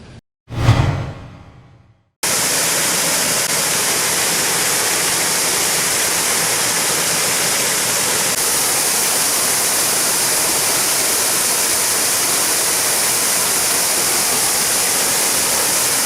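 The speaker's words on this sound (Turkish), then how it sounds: "şelale, artan sıcaklarda buz gibi akan suyuyla ziyaretçilerini bekliyor" Sakçagözü waterfall in Nurdağ, Gaziantep, pours cold water in a loud, continuous rushing roar that fills the scene after a brief whooshing burst at the start.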